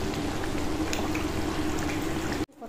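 Bengali-style chicken curry broth bubbles steadily in a pot after water is added, a close continuous simmering hiss that cuts off abruptly near the end.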